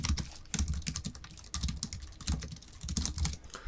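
Keys clack quickly on a computer keyboard while a PowerPoint slide title is entered, in short irregular bursts with brief pauses, close and fairly quiet.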